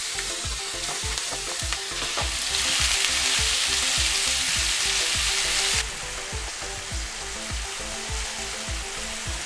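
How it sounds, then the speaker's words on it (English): Ground beef sizzles in a hot pan over medium heat, a steady crackling fry with rhythmic scraping stirs repeating throughout, loud and close with no talk. "you want to cook your meat or your ground beef until it's brown"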